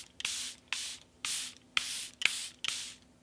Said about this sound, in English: the new Charlotte Tilbury Flawless Setting Spray